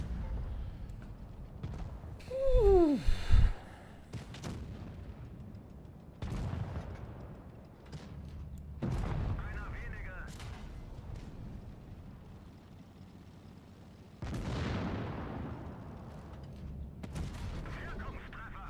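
Artillery gun firing in a tank video game, a few heavy booming shots spaced apart over a rumbling battle ambience, with one louder blast standing out near the start.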